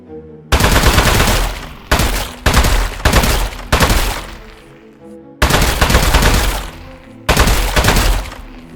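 Loud, dense bursts of gunfire from the Aperture Desk Job video game hammer away in repeated blocks of a second or two, broken by brief pauses. The shots come with crunching impact noise.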